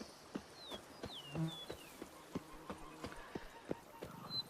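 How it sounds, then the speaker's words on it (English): A horse moves at a quick, rhythmic clip-clop of hoofbeats in The Witcher 3, the steady hits near and moderately loud, with chirping birds in the background. "even a horse drops if you ride it at a constant gallop"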